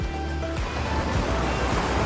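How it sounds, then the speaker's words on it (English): Open-ocean waves wash against a hidden beach bay in Dalaman, Turkey, a steady rushing surf with soft wind, fairly close and continuous, with no talk. "you've got the open ocean"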